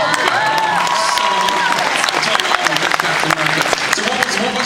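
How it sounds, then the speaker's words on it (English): A convention crowd at a Comicon fan panel in Philadelphia claps loudly and steadily throughout, a dense wash of applause with a few cheers and voices mixed in. "I might get another applause for this"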